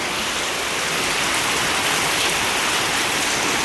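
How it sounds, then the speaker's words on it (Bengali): Heavy early-morning rain pours down in a dense, unbroken hiss of drops, loud and close, with no voices. "সকাল সকালে বৃষ্টি শুরু হয়ে গেছে"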